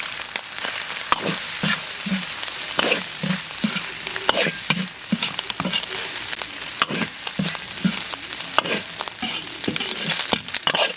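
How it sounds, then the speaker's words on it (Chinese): Chicken breast stir-fried in a wok with green and red chili peppers: constant loud sizzling with rhythmic scraping strokes of the spatula roughly every half second, close up and without speech. "鸡脯肉炒一炒，下入青红辣子"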